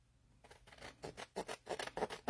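Scissors snip through paper in a quick series of crisp cuts, close and clear, growing louder and more rhythmic toward the end.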